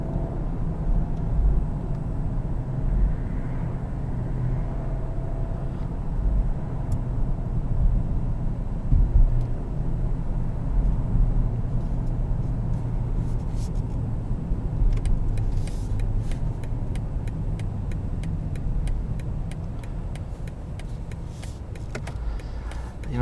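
A 2021 BMW 750i M Sport sedan driving in sport mode, its engine and road noise a steady low rumble from inside the cabin, with faint clicks and rattles on top.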